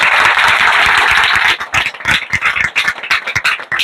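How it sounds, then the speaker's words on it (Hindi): Students at a coaching class in Bihar Sharif clap for a classmate. The clapping starts loud and dense, then thins into scattered, uneven claps from a smaller group before trailing off. "एक बार ताली हो जाए इनके लिए"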